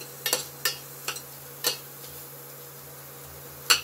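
Onions and black chickpeas stirred in a pan without oil, a few sparse scraping clicks of a spoon against the pan over a low steady hum, no talking.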